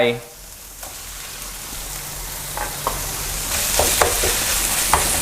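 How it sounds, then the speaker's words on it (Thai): Minced pork with shallots and salted radish is stir-fried in a pan: a steady close sizzle with intermittent scraping and clicking of a spatula against the pan. "ผัดให้หมูสับสุกครับ"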